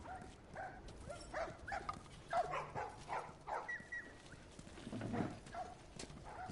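A dog in a video game whimpers and gives short barks, fairly faint, in scattered bursts over low background game ambience, with no talking.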